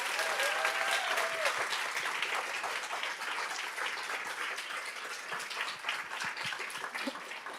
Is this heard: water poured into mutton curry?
no